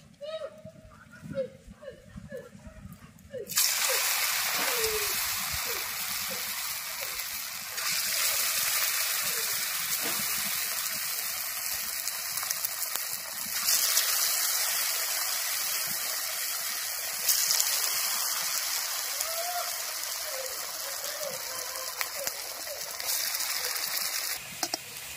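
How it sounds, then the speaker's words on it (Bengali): Raw potato pakoras slid one by one into hot oil in a karahi, giving a steady, loud sizzle and bubbling that fills the scene, close up. "এবার এক এক করে পকোড়া কড়ার মধ্যে দিয়ে দেব।"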